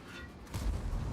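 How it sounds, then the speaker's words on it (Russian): A delayed tank gun shot from World of Tanks lands as a single low boom about halfway through, with a sustained rumbling tail over a quiet background, fairly loud and alone. "я нажал на выстрел с задержкой"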